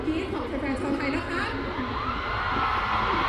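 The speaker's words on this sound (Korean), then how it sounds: "ถึงเวลาแล้วที่พวกเราต้องฟังเสียงกรี๊ดของแฟนๆชาวไทยนะคะ" Thai fans at a concert in Bangkok scream and cheer together, a loud, continuous crowd roar with high shrieks, and a voice speaks over it at the start.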